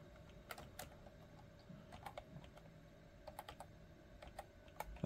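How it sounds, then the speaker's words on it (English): Typing on the keyboard of a Packard Bell Statesman laptop, with scattered soft keystrokes in uneven bursts, faint against a steady electronic hum. "It's hard to type with a camera in the way."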